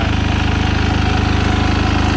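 Old Japanese Yanmar diesel engine on a walk-behind straw baler, running close up with a loud, rapid, even chugging thump.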